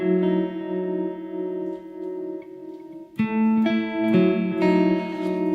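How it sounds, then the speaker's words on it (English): An electric guitar tuned down half a semitone plays through a Univibe effect, sustained chords with a swirling, pulsing tone, followed by sharper picked notes, clear and fairly close. "So let's put that Univibe on."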